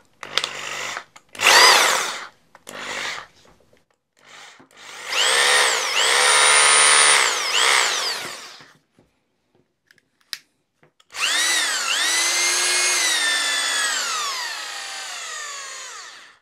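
A counterfeit Makita rotary hammer runs in bursts as the trigger is pressed, whining up and winding down several times between brief pauses. The later runs are longer and louder, with the pitch sliding as the motor speeds up and slows.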